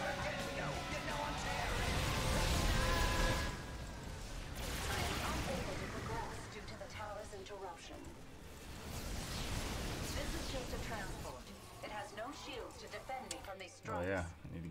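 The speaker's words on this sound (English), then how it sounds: "Another barrage." Dense barrage of gunfire and explosions from a StarCraft II co-op match, with Battlecruisers in play, roaring continuously and loud for the whole stretch while a voice talks over it.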